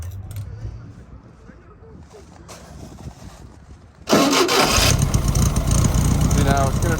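A small engine with a freshly rebuilt carburetor fires up abruptly after a stretch of quiet shuffling and voices, then runs loud and steady close by, its rough roar filling the rest of the moment.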